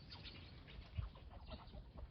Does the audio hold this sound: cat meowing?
no